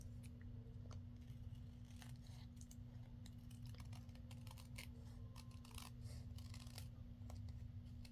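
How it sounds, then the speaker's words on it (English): Scissors trim an acetate sheet in a series of faint, crisp snips at close range, over a steady low hum. "Now let me trim the acetate away."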